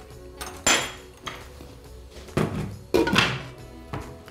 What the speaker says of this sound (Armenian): կդնեմ կափարիչը և կթողնեմ եփվի